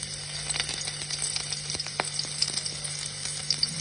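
Garlic fries in a pan with a steady close hiss and crackle, punctuated by a few sharper pops and light clinks of stirring, with no voices.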